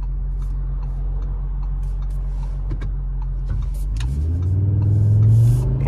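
A 401 hp Audi RS3 8Y quattro idles with a steady low engine drone, then pulls away from a standstill as the engine note climbs and swells louder near the end.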